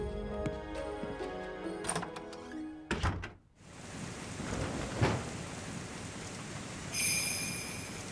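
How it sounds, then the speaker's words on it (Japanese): Steady rain and thunder in a Nintendo Switch otome game, Harukanaru Toki no Naka de 7. A thud or door knock lands near three seconds, then dense, continuous rain with a low rumble, and a high tone enters near the end. "こんな雨の中外に出るなんてどうかしてる。"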